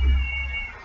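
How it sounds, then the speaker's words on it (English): A pet cat gives a single short, loud meow close by, over a low background rumble and with no one speaking. "Oh, my cat's crying again."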